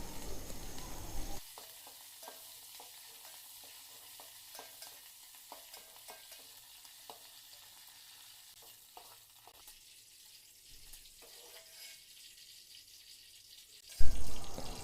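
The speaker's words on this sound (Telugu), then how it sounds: "నూనె వేడెక్కిన తర్వాత ముందుగా కరివేపాకును వేయించుకొని" Curry leaves hit hot oil in a large bowl and crackle into a loud, dense sizzle that eases into a steady, close frying hiss with light stirring, ending in a sharp clatter.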